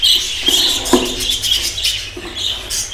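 Budgerigars in a breeding aviary keep up a busy, high twittering chatter, with many overlapping chirps and a few sharper calls, close and continuous.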